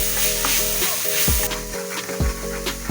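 Ginger garlic paste sizzles vigorously in a pan while making paneer butter masala, with repeated scraping stir strokes over a constant low mechanical hum.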